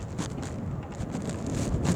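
Steady wind buffeting the microphone while riding outdoors on a windy, sunny day, a constant low rumble with gusty swells that grow slightly stronger toward the end, with no voices.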